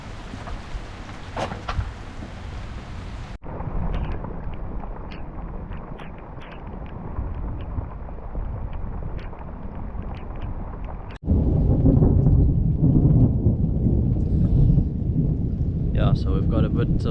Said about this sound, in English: So we've got a bit of rain.